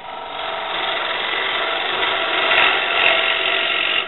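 A wood lathe spins a square bowl blank while a bowl gouge hogs out the wood, giving a loud, steady scraping and whirring cut that holds continuously throughout.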